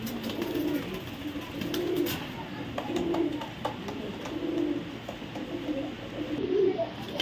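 Racing pigeons, red checker pied racers kept in a loft, coo in a steady, repeating pattern of low, soft calls, close and moderately loud against a light background hum.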